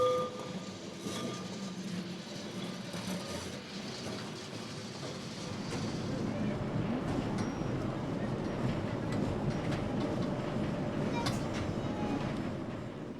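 Lisbon tram on Route 28 setting off from the western terminus at Prazeres cemetery, heard from the driver's position: steady rumbling wheels and motor with occasional clicks and squeals, building louder after a quieter start, no talk.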